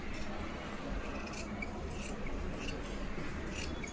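Scissors snip steadily through two layers of blouse fabric at once while cutting a size 34 katori blouse, a soft continuous rasping of blades on cloth, close and fairly quiet with no talking.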